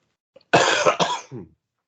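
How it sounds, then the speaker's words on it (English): A person coughs nearby in a short burst of two or three harsh, raspy hacks, ending with a strained throaty wheeze, then silence. "Ooh, and the cough is back."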